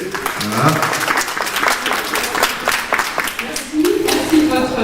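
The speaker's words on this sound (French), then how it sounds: "On l'applaudit s'il vous plaît." Audience applause at a French charity association event, a dense patter of many hands clapping over several seconds, with voices speaking over it.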